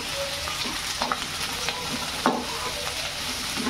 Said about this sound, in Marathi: आणि व्यवस्थित याला ढवळून घ्यायचं आहे आपल्याला।